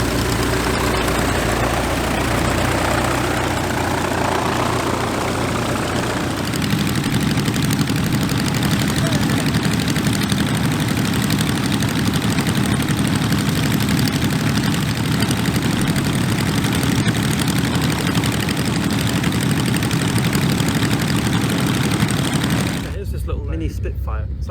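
Engine of a scale replica Spitfire aircraft running at an airshow, a loud continuous droning roar that shifts to a steadier lower rumble partway through before cutting off near the end.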